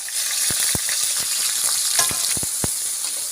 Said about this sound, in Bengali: আমি পেঁয়াজ রসুনটা একটু সুন্দর করে ভাজা ভাজা করে নিব